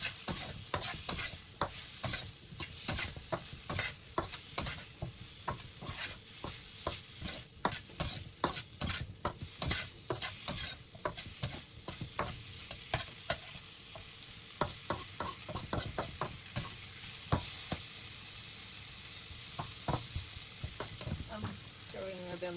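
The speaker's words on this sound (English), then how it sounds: "And just quickly stir everything in." Ingredients stirred and tossed in a hot pan while cooking a Chinese New Year feast, with rapid scraping and clattering strokes over a soft sizzle that fade to a quieter stretch near the end.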